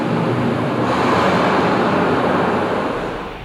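Waves churned up by a wave machine in a life raft training pool, making a steady broad wash of rough, confused water that holds loud and continuous before easing slightly at the end.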